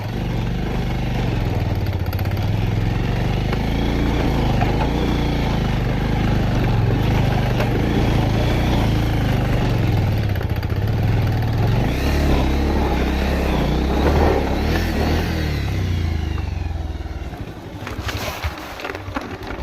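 A motorcycle in first gear climbs a dusty hill where the tyres struggle for grip, its engine droning loudly and close with uneven revving and clattering for most of the ride before easing off near the end.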